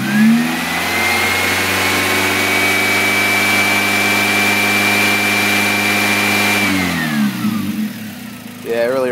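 Car engine fitted with a Mechman alternator, revved from idle and held at a steady high drone for several seconds before dropping back down to idle, loud and close.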